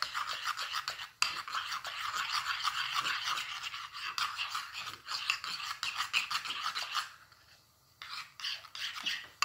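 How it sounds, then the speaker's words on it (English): Homemade lotion tinted with red coloring being stirred in a container, a steady scraping, rubbing swirl close by that runs nearly continuously, pausing briefly near the end before resuming. "And then you just stir it up until it turns an"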